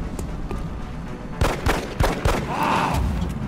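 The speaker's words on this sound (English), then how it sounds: "Can use your pistol maybe and get a few shots on him." A handful of sharp pistol shots crack at an alien in XCOM: Enemy Unknown, several quick reports bunched close together, followed by a brief whirring game effect.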